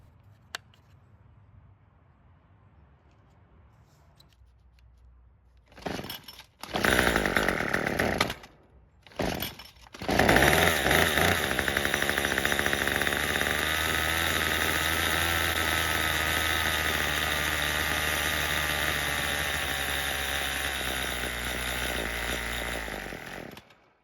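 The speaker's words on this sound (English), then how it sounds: "then try starting the engine." After a few quiet seconds, a Troy-Bilt string trimmer's small two-stroke engine, which has trouble running, sputters, catches briefly, cuts out, then starts and runs with a loud, steady buzzing drone until stopping.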